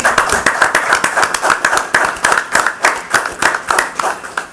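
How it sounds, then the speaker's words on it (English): Steady, rhythmic clapping from a small group at a county fiscal court meeting, loud and close, continuing for several seconds with no talk over it. "I think we owe them all a round of applause."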